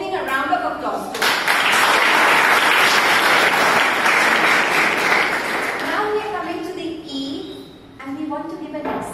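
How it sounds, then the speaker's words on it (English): Audience applause at a public speaking club session, a dense steady wash of clapping swelling up after a speaker's voice and holding for several seconds before fading as talk resumes. "A round of applause to him."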